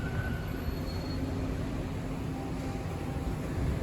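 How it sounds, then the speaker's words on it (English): A Toronto TTC Line 2 subway train rumbles steadily nearby with a continuous low roar and faint high wheel squeal, no voices. "that train you hear is the Line 2."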